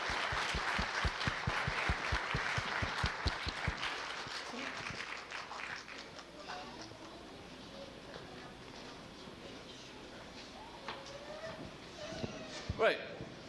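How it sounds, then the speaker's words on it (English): Audience applause at a university chemistry demonstration night, sharp rhythmic claps at first that thin out into a scattered, quieter crowd patter, with voices and stray noises rising near the end. "Give a round of applause for Zora on her ferric fluid."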